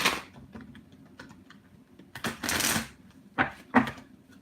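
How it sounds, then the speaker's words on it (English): Oracle cards being shuffled by hand: a quiet run of soft papery riffles and taps, with a few louder bursts of flicking cards near the end and no speech. "Shuffling the cards,"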